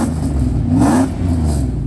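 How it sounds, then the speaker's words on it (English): A 1995 Mercedes S500 W140 V8 breathing through a MagnaFlow muffler revs up close and loud, the engine note climbing and falling in one sharp throttle blip over a steady deep idle. "That's a MagnaFlow muffler."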